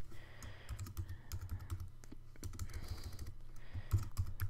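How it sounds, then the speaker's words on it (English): Fingers type text on a computer keyboard in a rapid, uneven stream of soft clicks and key taps, close and fairly quiet, with brief pauses between bursts. "we'll just type some text."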